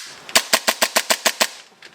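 An airsoft pistol fitted with a UAC hammer, strut and hammer tuner fires a rapid burst of about eight sharp, loud, closely spaced cracks in an even rhythm.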